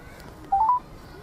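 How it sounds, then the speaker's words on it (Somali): A phone keypad sounds two or three quick dialing tones in succession, clear and close against a quiet background, as a call to a friend is placed. "bal waxa wacaya yarkii saaxiibkay ahaa"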